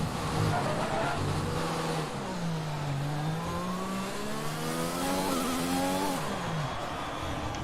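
Race car spinning out during a Chinese GP session in a racing game, engine whining and sweeping up and down in pitch with tire squeal as the car rotates, loud and close.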